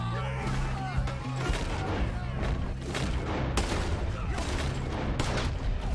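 Dense gunfire from a Red Dead Redemption 2 shootout, with shots cracking in close succession over a steady loud din of battle for the full stretch, and a voice speaking in the mix.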